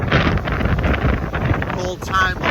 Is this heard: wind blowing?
yes